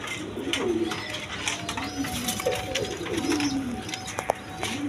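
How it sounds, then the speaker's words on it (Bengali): Female pigeons, including a Rajgolla hen, coo in repeated low, rolling phrases at a market stall, fairly close and steady over a busy background murmur. "দর্শক এইখানে দুইটা মাদি কবুতর আছে"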